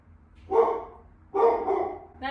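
Two loud, close dog barks about a second apart, each a full throaty woof, with a third bark just starting at the end.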